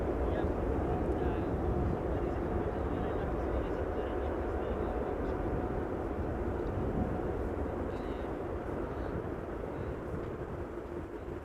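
Thrust reversers roar on a landing airliner at Amsterdam Schiphol Airport, a steady heavy rumble that slowly fades as the engines spool down. A voice talks faintly over it.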